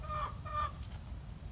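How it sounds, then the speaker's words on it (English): Chickens cluck in two quick clear calls, close and fairly soft, over a low background rumble with no talk. "These chickens clean up the litter that they actually made themselves by throwing the apples around."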